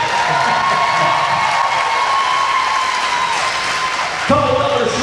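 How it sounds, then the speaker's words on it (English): An arena crowd at a Battle of the Blades skating event applauds and cheers in a loud, dense, continuous wash, with a brief burst of whoops near the end. "Give one more round of applause"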